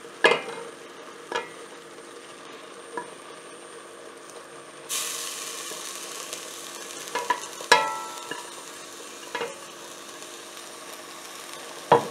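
Apples frying in butter for Indian apple halva, stirred in a pan: a steady sizzle that swells partway through, broken by scattered sharp scrapes and clacks of the spoon against the pan.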